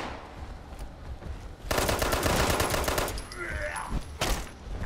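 A dense, rapid burst of close, loud gunfire in the Fallout 76 video game, a sustained volley followed by a few more isolated shots over faint background ambience.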